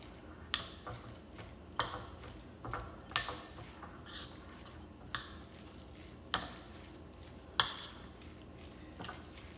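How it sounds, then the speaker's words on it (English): A spoon works through salmon croquette mixture in a bowl, giving faint, evenly spaced scrapes and soft wet clicks about once a second over quiet room noise. "I'm going to stir it up really good and get all those ingredients mixed in"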